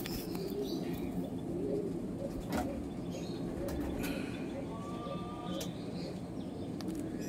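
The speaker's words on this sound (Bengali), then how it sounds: "দুটোই পাঠা পায়রা।" Young Golden Eyes pigeons, a male and a female in a cage, coo in soft repeated rolling calls close by, with faint chirps and a few sharp clicks over a steady background.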